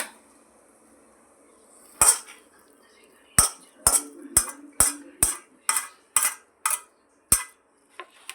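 Clinks of a spoon against a plate while a Schezwan vegetable dish is served, one isolated tap followed by a run of about nine quick, bright, close metallic knocks at a steady rhythm.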